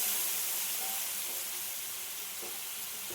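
Ground spice paste and a splash of water hit a hot pan while brinjal is being cooked, giving a soft, steady hiss and sizzle that slowly fades, with faint bubbling ticks.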